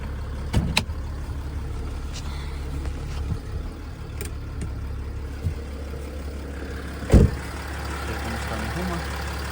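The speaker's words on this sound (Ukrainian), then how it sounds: "Двигунчик мурчить, прям, прям мурчить." A Mercedes-Benz ML 320 4MATIC with a 3.0 CDI V6 diesel and 7G-Tronic automatic idles with a steady low rumble, punctuated by a few sharp knocks and one louder thump, as someone talks nearby.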